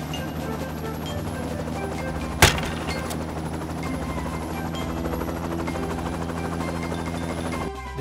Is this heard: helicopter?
yes